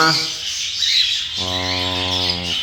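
Pet birds in a flight cage give loud, harsh squawks close by, including one long, buzzy, tonal call over a noisy background of chatter from the flock.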